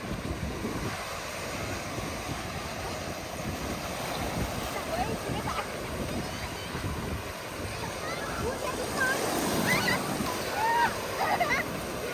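Sea waves washing onto the shore in Japan, a soft, steady surf heard under gusting wind buffeting the microphone, with a voice and some faint chatter toward the end.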